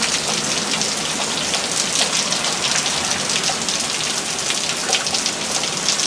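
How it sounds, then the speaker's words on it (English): Evening rain falls steadily in Texas, a dense even patter of drops hitting surfaces close by with no voices. "And now it's raining."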